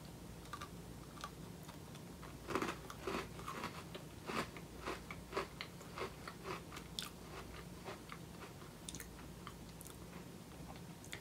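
Close, crunchy chewing of an Oreo cookie, a special 110th-birthday edition, with irregular crisp bites and munching repeated throughout, heard alone without speech.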